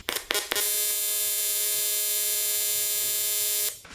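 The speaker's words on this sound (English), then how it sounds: "it's just balled the end of the tungsten" A UNIMIG Razor TIG welder starts an arc to ball the end of the tungsten before welding aluminium, giving a steady, loud electrical buzz with strong harmonics. It holds for about three seconds after a few brief clicks, then cuts off.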